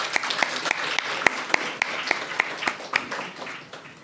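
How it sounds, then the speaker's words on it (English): Audience applause greeting Mr. Pranav Agarwal as a guest at an evening event, a steady patter of many hands with sharper individual claps, fairly close and fading slightly toward the end. "Please give a big round of applause for Mr."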